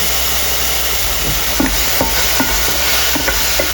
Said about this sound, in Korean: 그리고 여기에 바질을 이 정도 볶으면 끝!